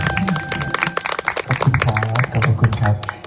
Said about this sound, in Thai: ขอเสียงปรบมือดีโน่ครับ